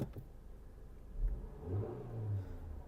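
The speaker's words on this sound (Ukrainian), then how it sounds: "Двигун працює чітко, оберти не плавають." A Renault Megane 2 engine with 163,000 km runs and revs, a low, steady car engine hum with a few gentle swells in pitch, fairly quiet and close, with no voices.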